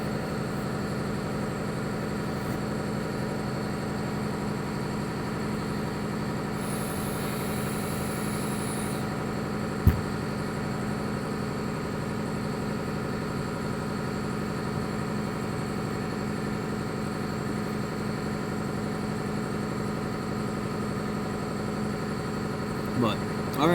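A modified Cummins diesel pickup with an EGR delete and 65-horsepower tune idles in a steady, low, continuous rumble for the whole stretch, with one brief sharp knock partway through and light talk nearby.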